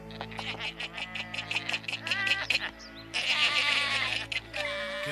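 Cartoon sheep bleat in quick repeated wavering cries over a steady background drone, close and fairly loud, with several overlapping bleats toward the end.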